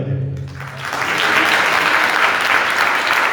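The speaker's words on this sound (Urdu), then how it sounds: "خدا کے لیے تالیاں مجھے." A church congregation at a Sunday meeting breaks into loud, sustained applause after a preacher's brief closing words, the clapping swelling quickly and holding steady to the end.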